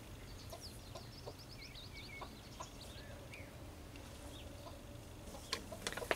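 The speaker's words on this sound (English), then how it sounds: "There comes the rooster." A rooster and hens around a chook house give faint, scattered clucks and short calls over a steady low background rumble, with no talking.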